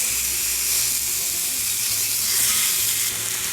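Oxtails sauté in an Instant Pot, giving a steady, close hiss of sizzling meat and fat that holds at an even loudness throughout, with no voices.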